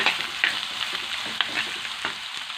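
Chopped young jackfruit being stir-fried with garlic in a hot pan, with a loud, dense sizzle throughout and quick, repeated scraping stirs, close up and with no talking.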